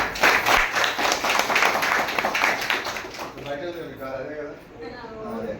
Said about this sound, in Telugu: Super, claps.